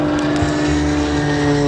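A 540 cubic inch piston engine of an aerobatic display aircraft drones loudly and steadily at the Singapore Airshow 2012, with a strong, even, buzzing tone throughout the brief moment.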